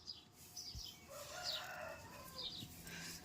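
Chickens and a rooster at dawn in a village yard, with repeated high squawks and calls rising over a steady outdoor murmur, moderately near.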